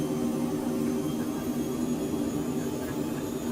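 Twin jet engines of a Phenom 100EV business jet in a flight simulator hold a steady, muffled roar at takeoff power, heard from inside the cabin under a constant broadband rush.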